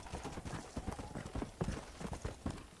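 Horse hooves clip-clop in the video game Red Dead Redemption, a quick uneven run of hoof strikes on hard ground, close and clear, with no talk over them.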